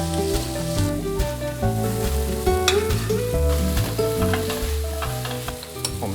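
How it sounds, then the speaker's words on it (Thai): Prawns fry with chopped anchovy in a pan for spaghetti with red pesto, giving a steady loud sizzle with scraping stirs and a few sharp clinks of utensil on metal, with no voices. "พอกุ้งใกล้จะสุกนะครับ ผมก็จะใส่แองโชวีสับลงไปนะครับ"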